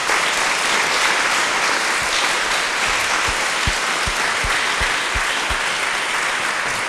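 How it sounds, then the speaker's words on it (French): A conference audience applauding a project team, dense, steady applause from a large crowd filling the hall, with a few sharper individual claps standing out near the end. "j'aimerais qu'on applaudisse l'équipe du LOL Project"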